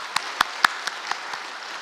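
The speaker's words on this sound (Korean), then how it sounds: "우리 감사한 마음으로 박수 한번 했으면 좋겠습니다." A church congregation at an early-morning prayer service gives a brief round of sparse, scattered claps, a handful of distinct hand strikes that soon thin out.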